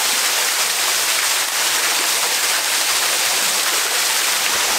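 A waterfall built into a temple in Japan gives a steady, loud rush of falling water. The wash is broad and constant, with no break and no voices over it.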